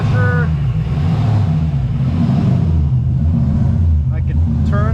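Rough, uneven engine roar from an LS-swapped 1992 Nissan 240SX S13 running badly, loud and close throughout, with brief chirps and rattles on top.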